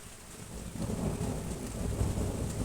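Low, rolling thunder from a weak storm with no visible lightning rumbles and builds steadily, with a wash of rain hiss over the top throughout.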